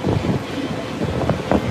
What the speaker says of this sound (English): Whoa, the wind. It's really windy today.